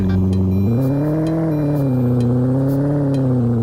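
Video game car engine revving loudly and steadily while drifting, its pitch jumping up early, then swelling and easing back down, with no talking.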